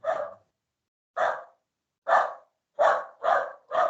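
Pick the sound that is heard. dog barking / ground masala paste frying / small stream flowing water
dog barking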